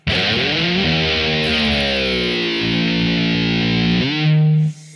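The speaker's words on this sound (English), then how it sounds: "So then you'll have that open E ringing out and you can take your tremolo and do the dive bomb." A heavily distorted electric guitar holds a loud open E that sustains while the tremolo bar pulls the pitch into a long downward dive bomb, then snaps back up near the end. It is close and continuous with no talking.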